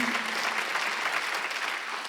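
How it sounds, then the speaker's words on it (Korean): A church congregation at a Sunday worship service applauds in a steady, full round of clapping. It is moderately loud and unbroken from start to finish. "빨리 박수하세요."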